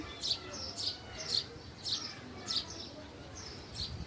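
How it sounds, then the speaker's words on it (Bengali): Sparrows chirp on a rooftop in short, bright bursts that repeat about every half second, fairly close over a soft background hiss. "কিছু চড়ুই পাখি আমার পিছে পিছে ঘুরতে থাকে আর কিচিরমিচির করতেই থাকে।"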